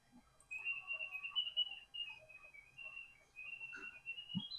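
Clock-museum automaton whose bellows blow air through a whistle, giving faint sustained high whistling tones that waver in pitch, with soft mechanical noise beneath in a quiet room.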